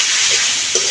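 Jute leaves sizzle and hiss loudly in a hot pan over a wood-fired stove, a steady bright frying crackle close up.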